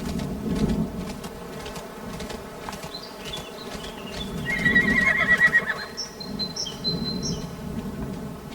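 A horse neighs in the farm game Horse Tales: Emerald Valley Stables, a loud whinny rising midway over buzzing insects, faint hoof clip-clops and soft background music.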